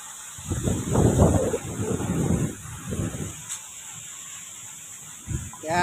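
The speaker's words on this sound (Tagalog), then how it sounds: "Buti na lang mahangin." Gusts of wind buffet the microphone in rumbling bursts, rising and falling against a steady background hiss, outdoors in summer at Okada Manila, Philippines.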